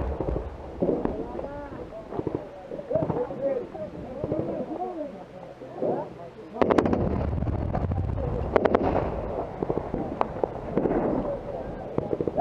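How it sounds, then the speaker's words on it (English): Incoming rounds explode during combat in Afghanistan, with sharp distant blasts and cracks under wind noise on the microphone as soldiers shout and talk nearby. "That was fucking incoming rounds."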